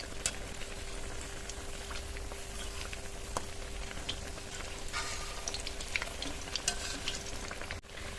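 Potato tikia kebabs shallow-fry in a little oil, giving a steady, fairly quiet crackling sizzle with scattered sharper pops throughout.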